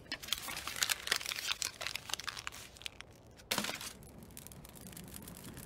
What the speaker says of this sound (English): Now I'll just crumple this newspaper full of the devils, stick it in my chamber pot, and light a match.